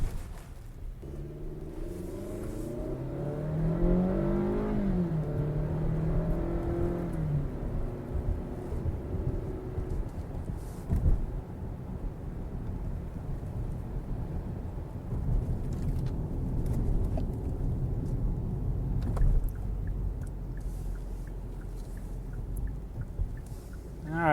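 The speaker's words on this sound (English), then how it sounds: "the roads are kind of wet, so you hear a little bit of that slooshy sound" Inside a 2017 Hyundai Santa Fe Sport SE on winter tires, wet slushy road noise forms a constant low rumble and hiss, with engine tones rising and falling and faint swishes of passing traffic.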